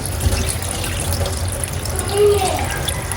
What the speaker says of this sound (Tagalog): Inuugasan ko na po itong mga mustasa